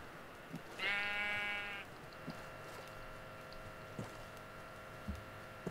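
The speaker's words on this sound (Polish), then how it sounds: "A jej głupia owca." A Minecraft sheep lets out one clear, nasal bleat of about a second, followed by faint scattered taps and clicks under a low steady background hum.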